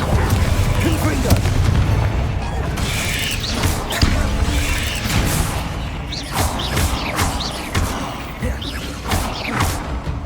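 Confringo blasting spells go off during a Hogwarts Legacy fight, a run of loud booming impacts and crackling bursts amid combat noise, coming close together and then spaced further apart.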